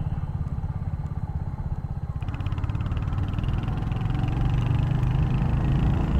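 A Royal Enfield Hunter 350 motorcycle with a 350cc single-cylinder engine thumps steadily while riding, its low, even pulse swelling louder as the revs build over the seconds.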